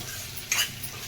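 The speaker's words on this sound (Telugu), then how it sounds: "సన్నగా కట్ చేసిన 1 ఉల్లిపాయ, 1 రెబ్బ కరివేపాకు. ఈ దోరగా వేయించుకోవాలి." Thinly sliced onion and curry leaves fry in a pan for an ivy gourd masala curry, with a soft, even sizzle and a single brief stir or scrape partway through.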